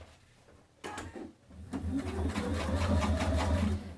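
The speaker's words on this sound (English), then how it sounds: "So I'm sewing, I'm making sure to back stitch so it's nice and secure." A sewing machine stitches through a cork fabric bag with a fast, close mechanical whir that starts briefly, pauses, then runs steadily for a couple of seconds with back-stitching, and no talk.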